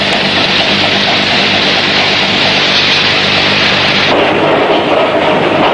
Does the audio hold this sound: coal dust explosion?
yes